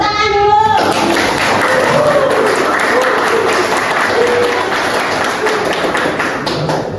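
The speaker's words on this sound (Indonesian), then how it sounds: "Tuh, tepuk tangan dulu." Applause from a classroom or field-practice audience follows a presenter's prompt, a broad dense patter of hands that continues steadily throughout with faint children's voices and taps mixed in.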